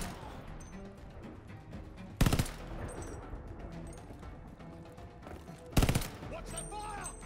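Gunfire in the World War II shooter game Call of Duty Vanguard, set at the Battle of El Alamein. Two loud, sharp bursts of shots stand out above a busy battle background, with a voice talking in between.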